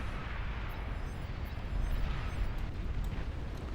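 Rapid-fire plasma cannons blasting an enemy base in the strategy game Beyond All Reason, a dense continuous rumble of overlapping explosions, steady and heavy throughout with no talk.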